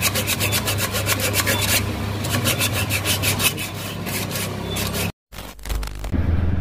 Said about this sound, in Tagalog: So yan, nililiha ni Pijo para linisan yung ano, yung clutch natin.